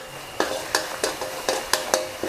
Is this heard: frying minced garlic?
yes